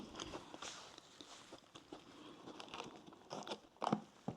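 Someone bites into a light, crispy Japanese snack from a subscription box, giving faint, close crunching and chewing with a few sharper crackles near the end, and no talking.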